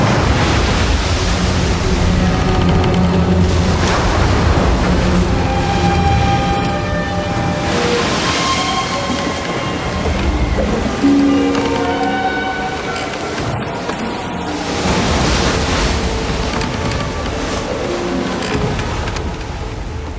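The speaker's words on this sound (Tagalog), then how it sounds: "nagsimulang lumakas ang hangin at lumaki ang mga alon" Loud, continuous rushing wind and surging ocean waves roar for a long stretch, swelling and easing in broad pulses with some tonal layers underneath.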